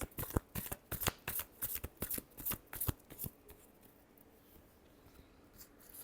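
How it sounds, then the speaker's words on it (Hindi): Tarot cards being shuffled by hand in a quick run of crisp riffling bursts for about three seconds, then near quiet with faint rustling. "Last shuffle."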